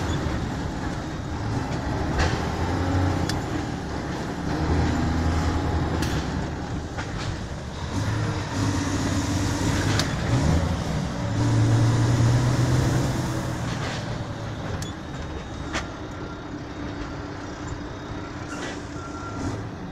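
A Volvo FH12 410 truck drives with a steady low engine rumble and road noise, occasional rattles and clanks from the load, and a brief higher tonal whine midway, continuous and close throughout.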